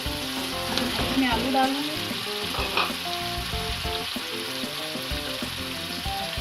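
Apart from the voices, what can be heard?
masala frying and sizzling in a pan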